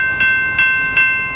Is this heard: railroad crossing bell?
yes